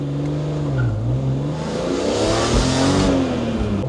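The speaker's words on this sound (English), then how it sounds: "The straight 6 from BMW is probably the best engines, it's what they're known for." A BMW E46 M3 with its straight-six engine accelerating through the gears in sports mode, engine note rising, dipping at a shift and climbing again, heard steadily from inside the car without talk.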